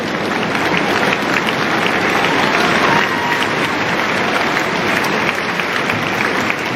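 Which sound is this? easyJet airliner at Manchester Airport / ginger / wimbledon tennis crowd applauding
wimbledon tennis crowd applauding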